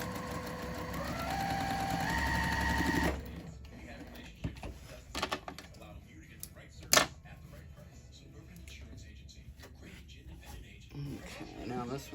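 A sewing machine runs for about three seconds, stitching quarter-inch seams to join rows of trimmed pumpkin quilt blocks, then stops and leaves scattered clicks and fabric handling noises.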